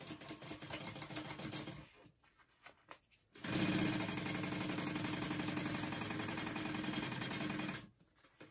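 A sewing machine top stitches a backpack pocket lining in two runs, a short burst, a pause, then a long steady stretch of fast, even needle clatter that stops abruptly.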